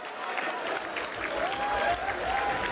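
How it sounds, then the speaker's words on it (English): A boxing crowd at a Columbus fight night cheers and applauds in a steady, dense wash of clapping and shouting, with voices rising and falling through the noise. "Do you hear the crowd?"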